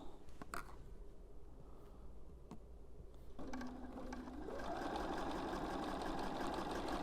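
A sewing machine sews a seam on an autumn postcard quilt. After a few soft clicks it starts up and runs in a steady, close whir to the end.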